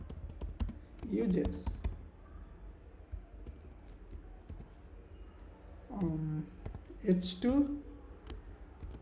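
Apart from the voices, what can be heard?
typing HTML code on a computer keyboard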